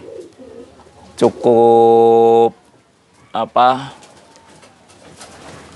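Pigeons at an Indonesian racing-pigeon loft give low, throaty coos in two bursts, fairly close and clear, mixed with someone speaking.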